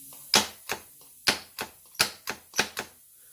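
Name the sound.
solenoid valve clicking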